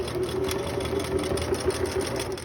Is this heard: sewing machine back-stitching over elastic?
yes